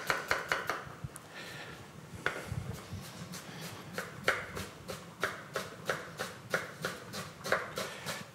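A knife chops onion on a board in a kitchen, producing a steady run of crisp, close taps in quick rhythmic bursts with brief pauses between them and no talking.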